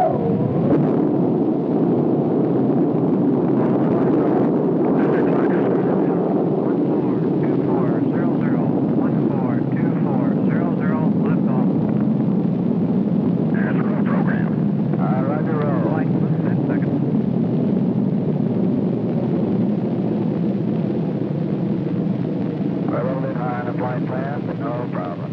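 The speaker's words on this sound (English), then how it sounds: "crew launched the Molly Brown spacecraft on its three-orbit flight." A Titan rocket lifts off from Cape Kennedy in 1965, carrying the Gemini Molly Brown spacecraft. A loud, continuous, deep rumbling roar holds steady and slowly swells and fades.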